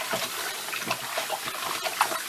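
Running tap water splashes steadily over cut pieces of raw chicken being washed in a sink, close and continuous with small bursts as the pieces are handled.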